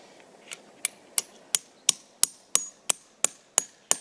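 A hammer drives an aluminum sap spile into a tap hole in a maple trunk, about ten sharp, evenly spaced metallic taps roughly a third of a second apart, close and crisp against quiet outdoor background.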